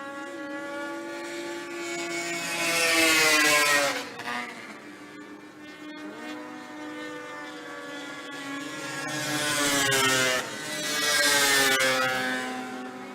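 Racing snowmobiles in an eight-lap championship final howl past in two loud waves, engines rising and falling in pitch as they approach and pull away, with a steady background drone between passes.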